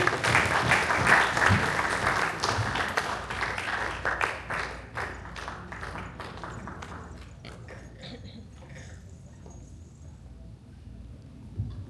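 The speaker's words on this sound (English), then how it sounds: "So round of applause for Hemant ji" A crowd at a community association celebration claps warmly, full and dense at first, then thinning into scattered individual claps that trail off toward the end.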